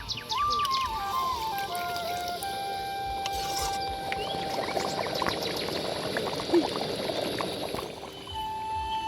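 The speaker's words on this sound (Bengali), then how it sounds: "এবার পরিমাণ মতো একটু জল দিয়ে ফোটাবো।" Water poured into a pan of simmering cauliflower curry on a village stove gives a continuous, bubbling gurgle that runs for several seconds, with faint tonal whistles and background hiss and no voices.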